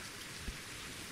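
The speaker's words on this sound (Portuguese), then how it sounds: "De noite chovendo." Steady night rainfall in the survival game Reign of Kings, a soft, even hiss of falling rain with a faint low thump, heard alone and fairly quiet.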